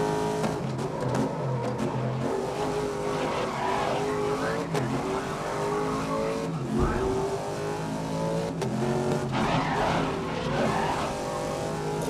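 Race car in GRID 2019 driving flat out and skidding through corners, a loud continuous engine roar with rising and falling revs and tire scrub, close and steady throughout.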